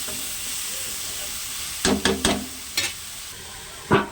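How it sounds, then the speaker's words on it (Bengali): Pointed gourd being stirred with salt and turmeric in a pan: a faint steady sizzle, then a few sharp scraping clatters of a spoon against the pan in quick succession, with one more scrape near the end. "লবণ হলুদ দিয়ে আমি ভালো করে নেড়ে চেড়ে মিশিয়ে নিচ্ছি"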